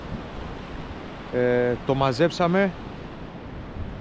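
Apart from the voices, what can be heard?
strong wind at the seashore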